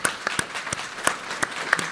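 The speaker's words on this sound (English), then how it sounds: "Please give a round of applause to our panel." Brief, scattered claps from a conference audience thanking a panel at a decarbonisation session, a handful of sharp individual hand claps spread over a couple of seconds rather than full sustained applause.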